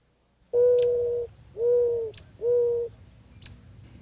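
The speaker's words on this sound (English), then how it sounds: "Mourning doves begin their nesting season in March and April with the first billing and cooing" Three soft, low mourning dove coos sound one after another in a steady rhythm, each a drawn-out mellow note, with faint higher chirps from other birds between them and no one talking.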